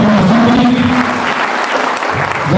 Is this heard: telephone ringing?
no